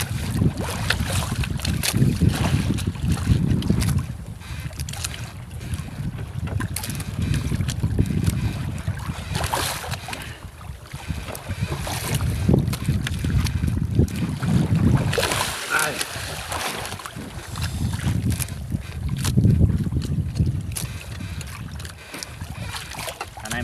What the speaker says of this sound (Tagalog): Medyo maalon pa rin mga katropa, malikot pa ang bangka.